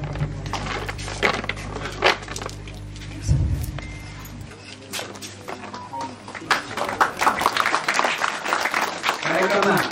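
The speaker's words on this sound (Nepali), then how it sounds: "यहाँले हार्दिक तालीद्वारा हार्दिक स्वागत गरिदिनु हुन हार्दिक अनुरोध गर्दछु" Audience applause welcoming guests at a World Environment Day tree-planting event, a scattered burst of clapping with clinks and shuffling, picking up again toward the end.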